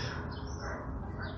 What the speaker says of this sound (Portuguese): vai ter um som ambiente natural aí de passarinho